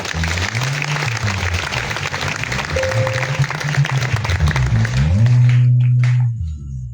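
A church congregation applauds, a dense steady wash of clapping with an instrumental or sung tone rising beneath it, swelling loudest near the end before cutting off abruptly.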